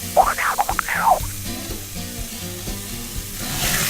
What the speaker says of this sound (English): That is a searing steak.